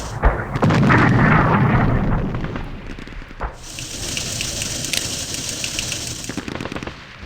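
Artillery bombardment in the wargame Operational Art of War IV, a loud rumbling barrage with a sustained roar at first, then a hissing rush with scattered sharp cracks and bursts.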